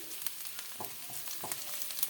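Chopped garlic and ginger sizzle in hot oil for chili tofu, a close, crackling fry with sharp pops and scraping stirs at irregular intervals.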